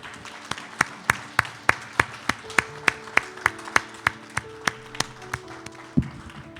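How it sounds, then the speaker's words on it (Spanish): A church congregation claps in a steady, evenly spaced rhythm during a Sunday service, the sharp claps ringing over sustained instrumental tones, with no talk. "Quisiera que la despidiéramos con un aplauso como expresión de amor"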